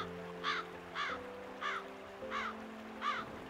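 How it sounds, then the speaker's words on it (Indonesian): A crow caws five times at a steady, even pace, each call a short harsh burst, over a low sustained hum in the background. "Tiba-tiba terdengar suara burung."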